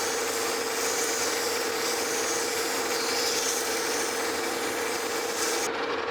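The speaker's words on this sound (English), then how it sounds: "I'm gonna just take some emery cloth and polish this up a little bit." A cane mill roller journal is polished with fine-grit emery cloth, giving a steady, continuous abrasive rubbing hiss at a constant close-up level, with a faint machine hum beneath and no talking.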